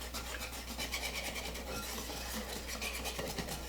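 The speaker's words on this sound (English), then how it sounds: "I'm going to just use my whisk and get this stirred up really good." A whisk stirring no-bake Italian cream cake ingredients in a bowl, quiet rapid scratchy strokes repeating steadily, close, over a low background hum, with no talk.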